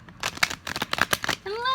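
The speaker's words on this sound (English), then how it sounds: "do one more shuffle and then I will look at fanning these out" A deck of tarot cards being shuffled in several quick, crisp riffling bursts close by, ending with a brief tonal sound.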